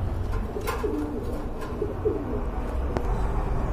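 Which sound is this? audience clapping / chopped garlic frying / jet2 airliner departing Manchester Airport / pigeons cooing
pigeons cooing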